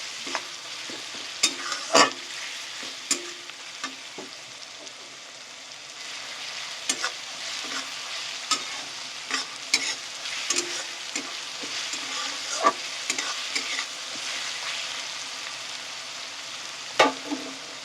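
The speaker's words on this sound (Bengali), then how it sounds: "রসুনটা আমার এখানে ভাজা ভাজা হয়ে গেছে, আমি এর মধ্যে দিয়ে দেবো আদা বাটা।" Garlic fries and sizzles in a pan for dhaba-style chicken tadka, a steady crackling hiss broken by sharp clinks and scrapes of a stirring spoon, close and continuous with no talk.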